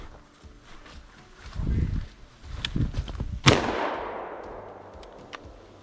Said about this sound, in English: With the gunshot going off